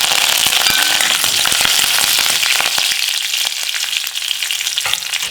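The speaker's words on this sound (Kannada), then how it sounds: "ಸಾಸಿವೆ ಚೆನ್ನಾಗಿ ಚಿಟಪಟ ಅನ್ನೋವರೆಗೂ ಹುರ್ಕೋಬೇಕು" Mustard seeds splutter and pop in hot oil, a dense, steady crackle of tiny bursts that stays loud and close throughout, with no voices.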